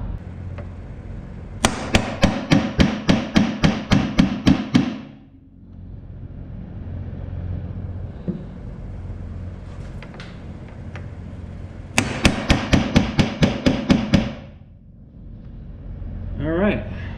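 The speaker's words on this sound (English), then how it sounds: "use our center punch and our hammer" Hammer striking a center punch on a metal plate, two bursts of rapid, evenly spaced sharp metallic blows, about a dozen each, loud and close, with a quieter stretch between.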